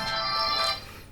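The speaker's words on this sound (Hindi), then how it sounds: "मेरा फोन आ रहा" A mobile phone rings with a bright, tonal electronic ringtone, loud and close, sounding for about a second before fading slightly.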